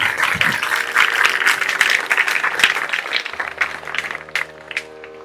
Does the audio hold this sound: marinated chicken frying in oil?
no